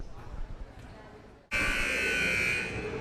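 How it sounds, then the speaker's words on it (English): A loud, sustained electronic gym buzzer blares suddenly over faint crowd noise in a large echoing gym at a high school volleyball match and keeps sounding. "And as the buzzer sounds, the break is over"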